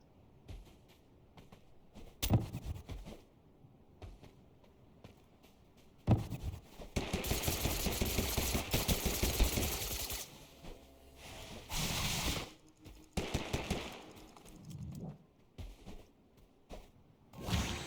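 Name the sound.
gunfire in a video game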